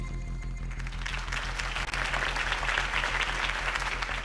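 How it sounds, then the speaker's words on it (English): A large crowd in the Batman Telltale video game bursts into sustained applause after Harvey Dent's campaign speech for Gotham, a dense, even roar of clapping that swells and holds steady without voices. "could have heard that applause"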